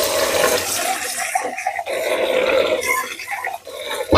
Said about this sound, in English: We're just going to drain these and rinse them.